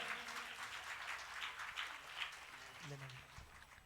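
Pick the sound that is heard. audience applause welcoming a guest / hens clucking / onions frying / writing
audience applause welcoming a guest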